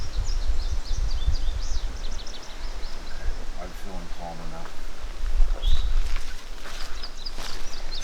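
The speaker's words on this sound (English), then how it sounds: "I love the sound of the birds." Faint high bird chirps and song flutter in the background of an outdoor scene, with a person speaking calmly close by and some rustling.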